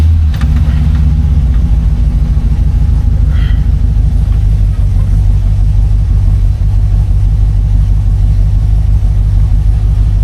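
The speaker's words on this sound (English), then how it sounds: "Start her up so I can put the top up" A 1968 Buick Electra 225 engine cranks over and catches, then settles into a loud, steady low rumble at idle that carries on unbroken, close by.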